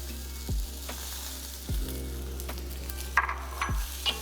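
Curry leaves sizzle in hot oil in a pan while milagu kuzhambu, a pepper curry, is cooked; a steady sizzle runs under a low hum, broken by a few sharp clacks and spatters.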